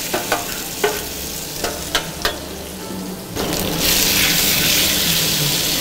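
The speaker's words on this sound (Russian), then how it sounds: "Выкладываем замаринованное куриное филе." Marinated chicken fillet laid into a heated nonstick pan with vegetable oil, first a few sharp clicks and taps, then a loud, steady sizzle of frying that swells and holds close to the mic.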